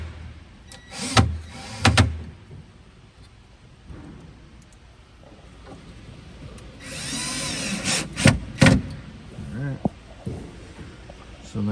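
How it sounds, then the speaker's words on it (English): Power screwdriver driving two small screws into the false front of a sink cabinet, with short bursts of whirring drive and clicks near and fairly loud, and talk between the bursts. "So he'll screw on the 2 small screws first."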